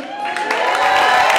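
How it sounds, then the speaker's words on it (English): A crowd at a comedy benefit night claps and cheers for the event's workers, a short, loud burst of applause with whoops and raised voices rising slightly toward the end. "Let's give a round of applause to everyone who worked with this thing together"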